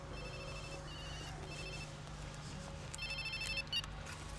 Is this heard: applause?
no